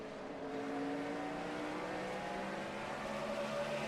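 A NASCAR stock car engine at the 2008 Food City 500 drones loud and steady, its pitch rising and dipping as the throttle is worked going into a corner, heard alone without talk.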